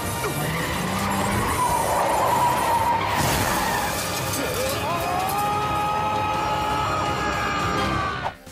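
A car's tires skid and squeal in an anime scene just before it goes off a bridge, a loud continuous screech with rising and falling tones, layered over engine noise and other soundtrack elements.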